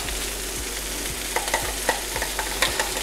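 Garlic and ginger frying in a wok for cashew chicken: a dense continuous sizzle with quick light spatula scrapes and taps recurring close by, no voices.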